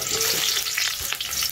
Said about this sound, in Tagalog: Yung pinagpatuhan na, at pinagprituhan natin ng talong, dyan tayo ngayon magigisa.